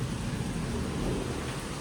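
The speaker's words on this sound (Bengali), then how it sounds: "এই জোরে বৃষ্টি চলে এসেছে" Heavy rain pours down at home in Bengal with thunder rumbling underneath, a dense, constant roar of rain mixed with deep low rolling thunder, loud and continuous.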